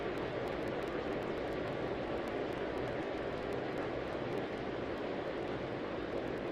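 Airliner taking off in the Tower!3D Pro air traffic control game at Atlanta, a steady broadband jet engine roar that holds loud and even throughout, with no talk over it.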